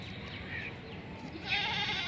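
A goat bleats on a Pakistani rural farmstead, a short wavering call rising near the end of the clip, moderately close, over faint outdoor background noise with no clear speech.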